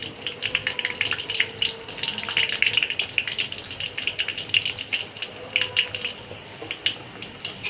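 Naan frying in a pan gives off a steady crackling sizzle with dense bursts of spattering oil, close and continuous, and no voices.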